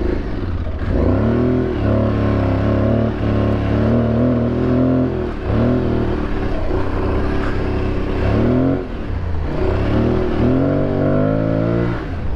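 Aprilia Tuareg 660 motorcycle ploughing through deep sand in a desert wash, its engine droning loud and steady with repeated throttle surges and brief dips as the rider swings around, close and continuous throughout.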